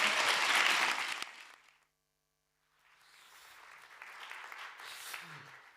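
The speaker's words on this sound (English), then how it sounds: "Now you can clap for Ove." An audience at a film festival town hall in Malmö bursts into applause, loud and dense clapping that fades out, then after a short silence a second, softer round of clapping builds and continues.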